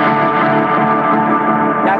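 Electric guitar run through reverb and delay pedals with feedback-heavy repeats, a dense sustained wash of echoing tones that stays loud and steady for about two seconds, with no talking over it.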